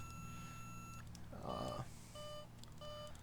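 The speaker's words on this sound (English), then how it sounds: "alarm telling us that our gear is still up" The landing gear warning alarm in the X-Plane 10 flight simulator, heard on approach to the Isle of Man, sounds as repeated electronic beeps in short bursts. A brief rush of noise comes in the middle, with quiet talk underneath.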